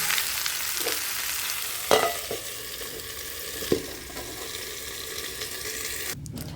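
Pumpkin and potato pieces frying in a pan for kumro chhokka, a loud continuous sizzle with a few sharp spatters and stirring knocks, close and without speech, ending with a brief clatter.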